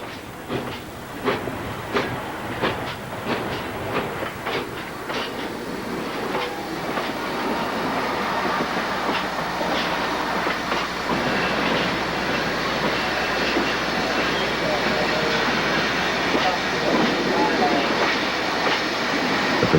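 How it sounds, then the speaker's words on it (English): An ET&WNC Tweetsie train is moved around a wye track, its wheels clicking rhythmically over rail joints before settling into a steady, loud rolling rumble close by. "A train is moved around the Y."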